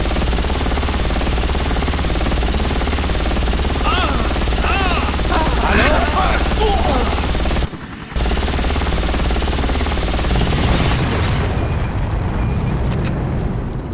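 Roaring helicopter rotor and engine noise from the video game Far Cry, loud and continuous with bursts of gunfire as the aircraft is shot down, a brief dropout midway, then the roar resumes.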